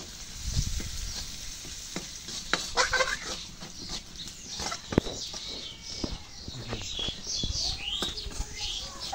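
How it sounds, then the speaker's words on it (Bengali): Dried chili dropped into hot oil in a village kitchen, a steady crackling sizzle with clinks and stirring scrapes, close by, while chickens cluck faintly in the background. "এখানে শুকনো মরিচটা দিই, তেলের মধ্যে দিই"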